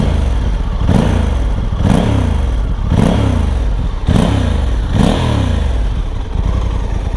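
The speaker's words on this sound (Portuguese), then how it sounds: "a sonoridade da moto." A 2024 Honda Africa Twin Adventure Sports motorcycle engine revs up loudly and close, several times in a row, each rev rising then dropping back to a rough idle, with no talking.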